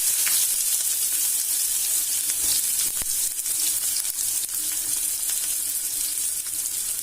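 Chopped onions sizzle steadily in hot oil in a pan while a beetroot palya is cooked, a dense continuous frying hiss with occasional stirring scrapes, close and with no talking.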